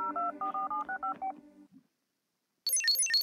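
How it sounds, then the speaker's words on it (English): Phone FaceTime call being placed in a South Park video game: a quick series of loud, clean dialing tones, then a short pause before a bright, chiming ring melody starts. "I'm gonna FaceTime him."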